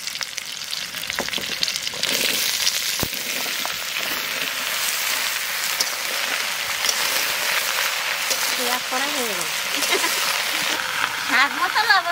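Bottle gourd and green chilli fry in a pan with a steady, close hiss and crackle that runs unbroken throughout, with faint stirring scrapes and a few higher squeaky tones near the end.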